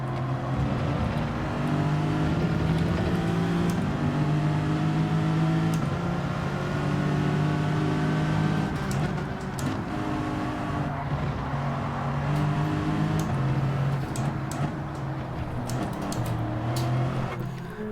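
A race car engine in Gran Turismo 7 drones steadily while entering the pits, a smooth sustained hum with gentle pitch shifts and small revs, loud and continuous throughout without any talk.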